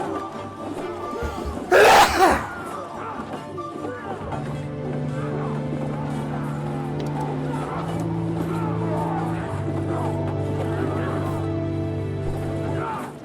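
A single loud, sharp sneeze bursts out near the start while a medieval battle game with archers plays, followed by ongoing game sounds and steady musical tones underneath.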